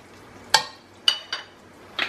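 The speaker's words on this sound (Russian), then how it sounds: "Добавляю чесночок, перемешиваю все" Garlic fries in a pan for quick plov zirvak under a faint sizzle, punctuated by four sharp metallic clinks of a utensil stirring against the pan.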